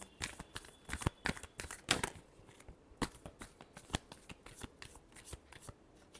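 Tarot cards being shuffled close up in a quiet room, a series of quick papery riffles and snaps in irregular bursts, with no talking.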